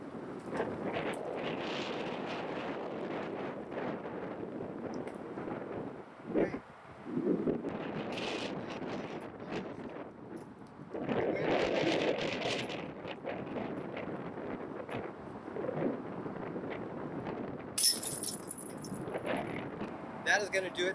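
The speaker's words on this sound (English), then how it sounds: "The wind has actually picked up." Wind gusts across an open disc golf course, a steady rushing roar buffeting the microphone that swells and eases in waves, with brief rustles and a faint high clatter near the end.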